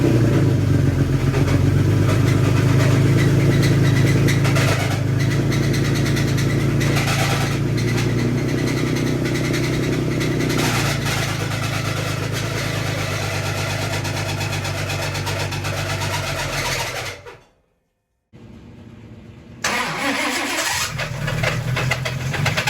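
A damaged 2018 Toyota Tacoma engine runs loud and rough with a heavy low rumble, cuts out abruptly near the end, then briefly catches again.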